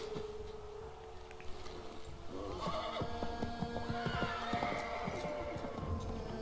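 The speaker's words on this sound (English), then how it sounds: "There goes our horses." Horses in Assassin's Creed 3 whinny and neigh in a few drawn-out calls over a low, steady background hum.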